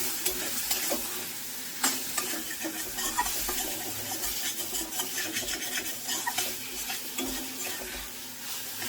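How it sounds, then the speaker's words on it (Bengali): Mango pieces sauté with spice paste in a pan for a Bengali rohu fish tok, a steady close sizzle and frying hiss with frequent scraping stirs of a spatula throughout, no voices. "আমটাকেও মশলার সাথে আরও 1-2 মিনিট সময় নিয়ে একটু কষিয়ে নেব।"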